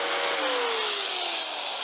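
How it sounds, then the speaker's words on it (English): Angle grinder cutting through rock-hard anti-roll bar bushes on a rare Volkswagen Scirocco Storm, a loud steady whine with a slowly falling pitch that runs the whole time with no talk. "It's easier to get these off with an angle grinder."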